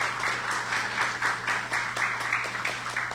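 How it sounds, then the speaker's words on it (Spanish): Steady audience applause fills a book presentation hall, a dense wash of many hands clapping at moderate loudness, continuous and even throughout with no voices over it. "Le brindamos un fuerte aplauso."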